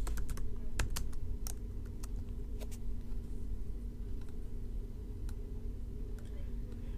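Keys tapped on a computer keyboard while entering short text labels, irregular sharp clicks in quick bursts over a steady low hum, close and moderately loud.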